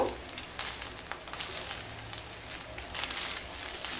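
A spatula tossing pulao with fried almonds, cashews, raisins, paneer and vegetables in a hot pan, giving a continuous sizzle with irregular scraping and clattering bursts close by.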